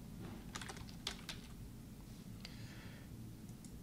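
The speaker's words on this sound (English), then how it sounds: "And then you can type in Zumo." Keys clatter on a computer keyboard in short irregular bursts of typing, close and fairly quiet over a steady low hum, while a name is entered into a library search during Arduino setup for a Zumo robot.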